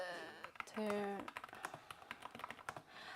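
Fast, irregular clicking of typing on a computer keyboard, close and fairly loud, with a brief tonal burst near the start and no talking.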